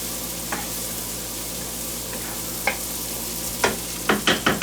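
Chicken fajita ingredients fry in a hot pan on a cooktop, a steady loud sizzle throughout with occasional scraping stirs that cluster into several quick strokes near the end.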